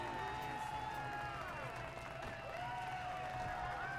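A crowd cheers and claps in the video game Saints Row 4, a steady dense roar of many voices that carries on through the whole stretch with a backdrop of game music.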